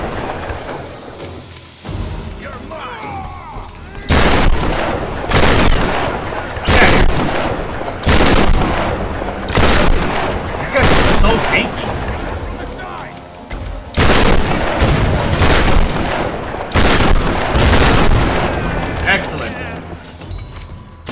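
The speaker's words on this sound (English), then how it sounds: "I think this is a shotgun situation" Shotgun blasts in the video game Tomb Raider boom loudly in a run of heavy, separate shots a second or two apart, each with a short ringing tail, with someone talking between them.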